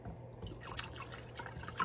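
Water being poured into a mug, a continuous liquid trickle with small dripping splashes, close and moderately quiet, no talking heard.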